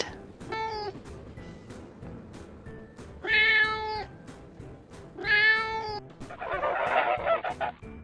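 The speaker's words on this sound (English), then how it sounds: "Cat." A cat meows several times in loud, tonal cries spaced a second or two apart, mixed with honking fowl and a harsh noisy burst near the end, in a farmyard.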